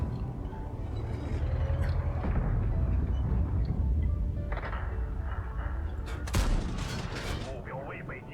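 A tank cannon fires in World of Tanks from a light tank position, a sharp loud blast near the middle followed by a brief ringing echo over low rumbling engine and ambient game noise.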